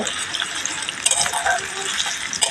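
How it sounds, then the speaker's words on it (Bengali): Chopped onion frying in oil with cardamom, cinnamon, bay leaf and cloves, giving a steady close hiss and crackle with a few stirring scrapes throughout. "এবার দিয়ে দেবো পেঁয়াজ কুচি। এটাকে এবার আমি হালকা করে একটু ভেজে নেব।"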